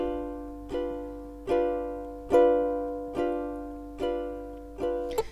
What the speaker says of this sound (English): if we play these chords with just a down strum